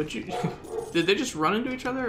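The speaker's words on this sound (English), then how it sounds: "Sorry about the dog, as always." A dog barks and yips in the background while someone talks over it, the dog's short sharp barks mixing with the speech across the whole moment.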